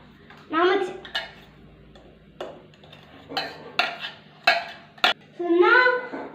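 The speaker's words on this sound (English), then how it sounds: "Now mix it." A spoon stirs a milkshake mixture in a cup or bowl, giving several bursts of clinking and scraping against the container, spaced unevenly with short pauses between them.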